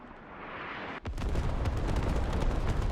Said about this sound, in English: This artillery creeping its way along